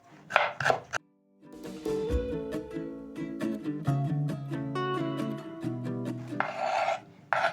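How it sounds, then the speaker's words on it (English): A knife chops an onion rapidly on a wooden board, a dense run of sharp taps and rasping slices, with a few louder scraping strokes at the start and end. "chop into strips and then dice."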